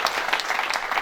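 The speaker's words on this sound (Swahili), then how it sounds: "Tumpigie makofi anaposimama" A church congregation applauding, a steady wash of many hands clapping at fairly close range, brief and uniform with no distinct voices.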